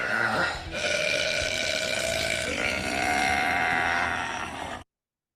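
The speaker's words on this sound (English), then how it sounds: "That was all one burp." A long, loud, drawn-out burp, or several joined back to back, rumbling close and continuously for nearly five seconds with a bleating, croaky tone before stopping abruptly.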